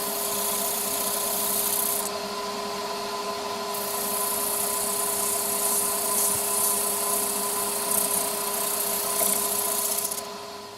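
A power sander hums steadily with a constant high whine, its pitch shifting slightly as it sands the inside of a wooden piece, working from 80 up to 240 grit.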